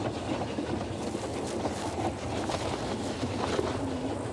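A steady, loud rumble of a train running along its tracks fills the clip, a dense continuous roar with no talking over it.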